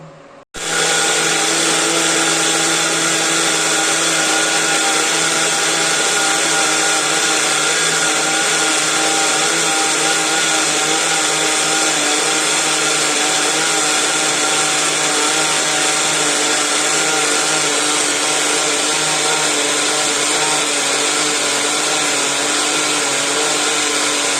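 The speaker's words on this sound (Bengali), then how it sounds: "তারপরে মিক্সি মানে এটাকে ব্লেন্ড করব।" A mixer grinder blends semolina dosa batter with a loud, steady motor whine that runs continuously and alone after a brief start.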